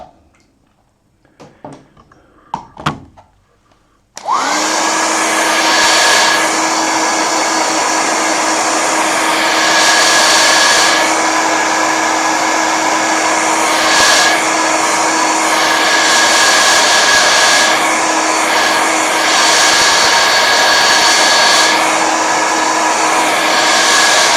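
A hair dryer blows on a freshly painted Caribbean beach scene, switching on after a few faint clicks and then running as a loud, steady whoosh with a constant whine, slightly wavering in strength, held close throughout with no talking.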